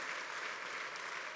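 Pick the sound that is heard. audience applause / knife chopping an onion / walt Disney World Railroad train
audience applause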